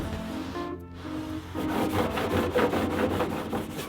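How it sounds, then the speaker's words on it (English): A clay bar scrubbing the paint of a cheap fourwheeler, heard as close, rhythmic rubbing strokes that start after a quieter moment and continue in quick back-and-forth passes. "This is a couple of minutes of like scrubbing"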